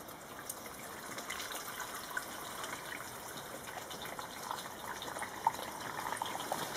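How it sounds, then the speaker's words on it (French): Water poured into a container to create a humid environment for grafted cacao plants: a steady, fairly quiet gushing flow for several seconds with a faint background hum and no talk. "Dedans, on va mettre de l'eau de façon à créer un environnement saturé"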